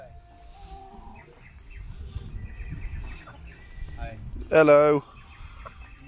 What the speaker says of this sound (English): You got all the chickens running wild in this little path down here.